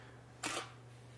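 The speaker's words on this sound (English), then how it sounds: "the sounds go off a lot faster because your shutter speed is a lot faster than before" A Canon camera shutter fires once, triggered by a Neewer intervalometer. It gives a single quick, close mechanical click over a faint steady hum, with quiet before and after.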